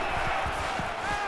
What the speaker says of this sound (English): this crowd is going absolutely crazy